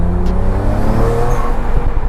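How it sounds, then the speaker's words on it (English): BMW 335i engine and exhaust under steady load, a continuous close, loud drone with shifting engine tones and no distinct blow-off valve burst standing out. "That's one thing you gotta appreciate about this car is all the noises it makes, blow-off valve, exhaust, variables"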